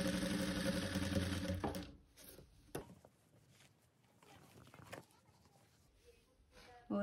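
A sewing machine runs in a steady whirring burst for about two seconds while stitching a fur hoodie, then stops, leaving faint handling clicks and taps in a quiet room.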